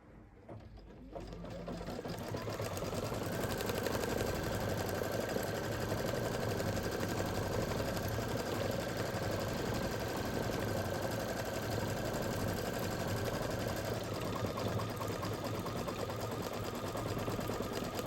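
A sewing machine stitches steadily and continuously, a close, even mechanical whir with rapid needle rhythm that starts after a brief quiet moment and runs unbroken throughout.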